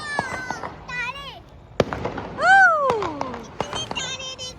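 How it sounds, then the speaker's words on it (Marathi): Firecrackers go off outdoors, with one sharp pop and a few fainter cracks heard under loud, excited children's voices. "ये गाड़ी में फटाके फुट रहे उधर शूट करो"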